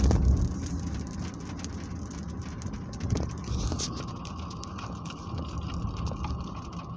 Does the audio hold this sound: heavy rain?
yes